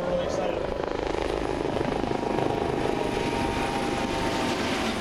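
A rescue helicopter hovers at an air show, its rotor producing a loud, steady, continuous chopping drone that fills the scene throughout.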